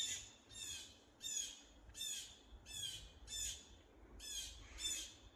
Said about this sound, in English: before it was only going like squawk, squawk every couple seconds. Now it's going off.